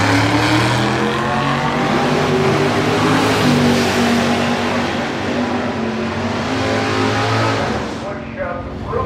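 A 1963 Plymouth Fury drag car with a 524 cubic inch engine roars down the strip at full throttle, loud and sustained with a steady engine drone, easing off near the end.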